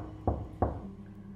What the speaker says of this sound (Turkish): En üst katı bulduğunda kata ait tek kapıyı çaldı.